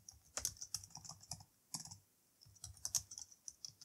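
Bursts of typing on a computer keyboard at a command line, with rapid close clicks in two clusters separated by a short pause, heard alone with no talking.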